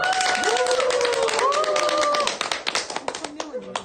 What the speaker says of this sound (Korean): 박수 연습 한번 하겠습니다